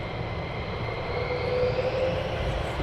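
Military jets taxiing at RAF Lakenheath, a steady broad engine roar with a rising whine, heard from a moderate distance as one continuous drone.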